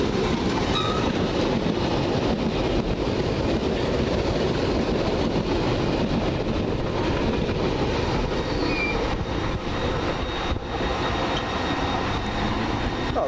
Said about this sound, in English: And here comes some more Piccadilly stock.